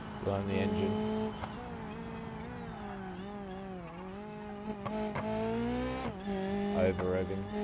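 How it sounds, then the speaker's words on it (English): Racing video game car engine over-revving loudly while airborne, a steady high-pitched howl whose pitch rises and dips continuously across several seconds, with short bursts of tire noise. "Over revving."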